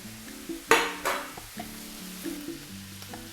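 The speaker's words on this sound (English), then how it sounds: "We're gonna add the fresh chili and the dry chili. And we're gonna cook that for 5 more minutes." Onion, garlic and fresh and dry chili frying in a pan, a soft sizzle beneath clinks and scrapes of a utensil stirring against the pan, with one sharp clatter near the start.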